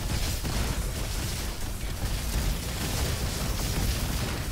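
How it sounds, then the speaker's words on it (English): Dense, continuous explosions and blasts from the shooter game ROBOQUEST fill the scene, a loud unbroken roar of bursts with no clear gaps between them. "so many explosions going on"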